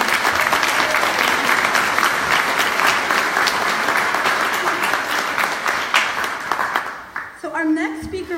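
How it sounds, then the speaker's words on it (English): Loud, sustained applause from an audience at an annual campaign kickoff breakfast, dense clapping for about seven seconds before fading as a voice begins to speak. "So let's give them a round of applause."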